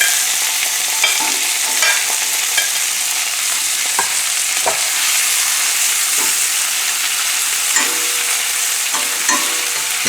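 Whole anchovies and minced garlic fry in hot oil or butter for a shrimp and fresh sausage dish, producing a loud, dense, continuous sizzle broken by occasional stirring clicks.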